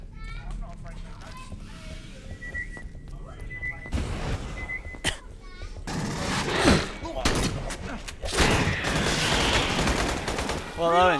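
Video game gunfire, with bursts of shots and rapid automatic fire in the second half, louder and denser toward the end, mixed with electronic game tones and voices talking over it.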